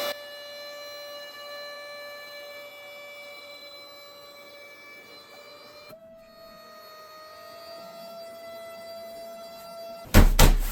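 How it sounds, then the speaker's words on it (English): The built-in electric pump of an inflatable camp sofa drones with a steady, loud tonal whine and hum, shifting pitch slightly midway, then ends in a burst of clatter. "open up the pump, hit our inflate button, and here we go"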